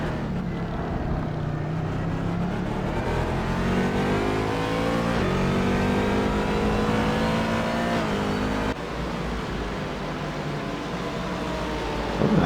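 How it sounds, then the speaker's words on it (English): A GT3 race car roars past during the 24 Hours of Daytona, a loud sustained engine note that sweeps through rising and falling pitch as it moves by, with continuous track noise behind it. "This is our second place GT3 car that he's actually moving by at the moment."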